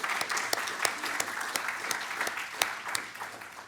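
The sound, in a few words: audience applause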